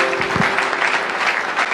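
A church congregation applauds in a brief, dense burst of clapping that fills the space steadily, loud and near, with no speech over it.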